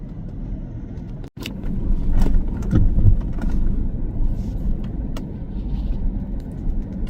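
A car driving along a road near a gas station, with a steady low engine and road rumble that holds close and continuous throughout.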